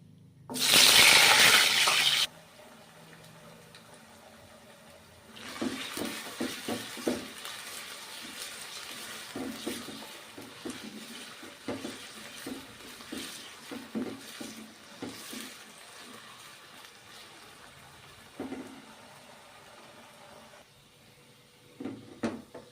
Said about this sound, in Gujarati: આપણે બટેકાને તેલમાં તરી લેશું જેથી તેનું એકદમ ક્રિસ્પી કોટિંગ આવી જાય